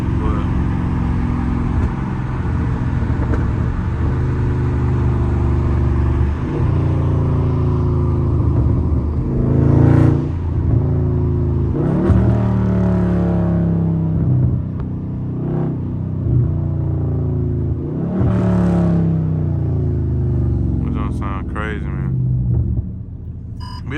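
A loud Dodge Charger Scat Pack engine drones steadily while driving, with throttle swells and shift-like changes in pitch throughout, and someone talks over it much of the time.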